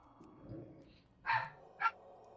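Two short dog barks, a moment apart, after a low murmur of background sound; fairly quiet and somewhat distant.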